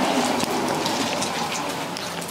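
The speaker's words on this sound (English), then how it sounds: "It's raining." Steady rain pattering on a surface, a dense continuous hiss with scattered drops throughout.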